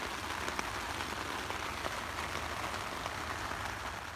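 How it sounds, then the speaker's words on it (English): Rain pattering on a tent in rainy weather in Austria, a dense, steady hiss of drops with no pauses and no voices. "we have rainy weather"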